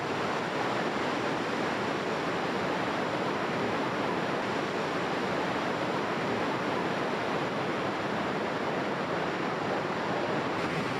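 A steady, dense rush of falling water from a rainforest waterfall in Brazil, loud and unbroken throughout with no voices or other sounds rising above it.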